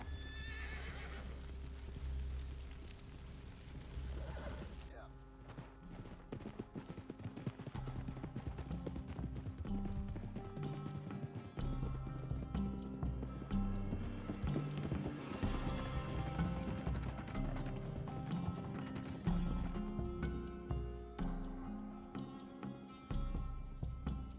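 A horse in Red Dead Redemption 2 whinnies loudly, then gallops in a steady clip-clop rhythm under swelling game music for the rest of the stretch.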